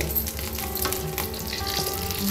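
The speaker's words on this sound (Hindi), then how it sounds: "तेल गरम हो गया है हमारा, और इसमें किशमिश और गोला कसके डालूंगी।" Raisins and grated coconut dropped into hot oil for kachori, giving a steady, close sizzling and frying with occasional stirring scrapes and no voices.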